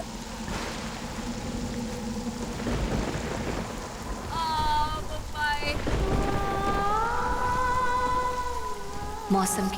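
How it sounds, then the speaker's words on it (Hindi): Rain falling with rumbling thunder in a TV drama scene, a steady wash of rain under low rolls, mixed with faint tonal music or voices in the background. "अभी अभी आसमान साफ था और अब ये बादल और बारिश"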